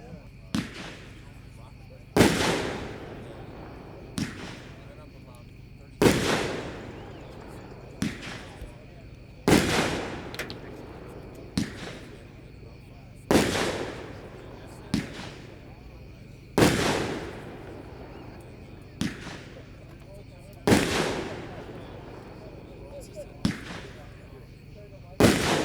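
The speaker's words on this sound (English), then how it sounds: "Number 5, The Protector, Texas Outlaw brand, packed 4-1, 9 shots." Texas Outlaw's The Protector firework cake fires nine loud shots outdoors, each sharp launch boom followed by a crackling tail, spaced about two to three seconds apart, with voices faintly in the background.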